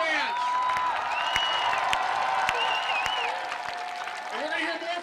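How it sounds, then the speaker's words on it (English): A crowd at a 2015 Seahawks pep rally applauds the high school bands, with sustained clapping and cheering under wavering horn-like tones and shouts. "let's give a big round of applause for the bands"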